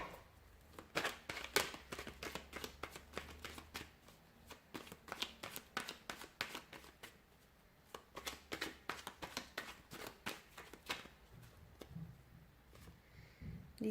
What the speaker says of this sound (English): we'll give the cards a shuffle